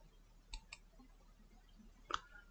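A few faint, sharp computer mouse clicks in a quiet room, a pair close together early on and another click about a second and a half later.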